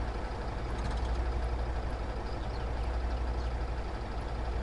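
A truck engine in Spintires: Mudrunner makes a steady, low diesel rumble, constant and fairly loud, with no voices over it.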